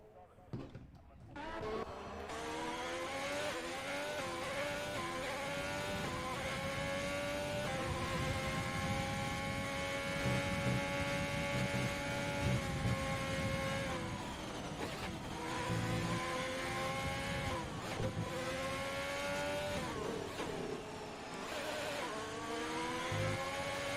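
F1 race cars in a racing game at the United States Grand Prix, several high-pitched engines screaming and shifting through gears continuously, with a commentator talking over them.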